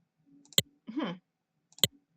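Two sharp, clean mouse clicks about a second and a quarter apart while saving a timeline file, with a brief burst of speech-like sound between them in an otherwise quiet room.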